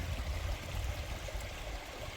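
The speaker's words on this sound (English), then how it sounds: "This is the waterfall where the drinking water comes from." Rushing water from the waterfall that supplies drinking water in Narsaq, South Greenland, a steady broadband roar with strong low rumble, continuous and close throughout without talk.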